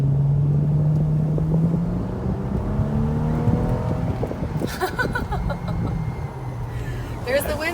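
A 2014 Mercedes-Benz E-350 convertible accelerates, its engine note rising steadily beneath someone talking over it, then easing as wind and road noise take over.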